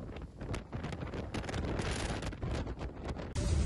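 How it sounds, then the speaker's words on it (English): Wind blows steadily and hard across the microphone at a high viewpoint on a rainy day in Porto, a continuous broad rushing roar with small gust swells and a sharp bump near the end, no voices. "But it's so windy"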